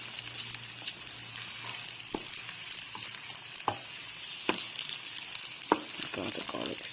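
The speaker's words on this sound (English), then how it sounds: "we put the eggs into the pan. Then we stir it. Until it's cooked." Eggs frying and being stirred in a hot pan for egg fried rice, a steady bright sizzle with occasional scraping stir clicks, close and alone.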